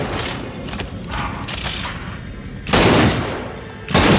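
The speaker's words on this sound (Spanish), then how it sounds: "Ya nada más hay que darle un par de disparos ahí entre." Sharp bursts of rapid gunfire crackle in short volleys in the video game Gears 5, loud and close, with mechanical clattering between the shots.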